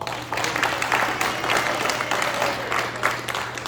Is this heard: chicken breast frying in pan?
no